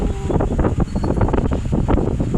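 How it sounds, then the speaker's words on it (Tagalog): Steady, heavy wind buffeting the microphone at Rizal Park in Manila, a continuous low rumbling roar that surges and gusts throughout without pause. "Sarap umupo dito, sobrang hangin"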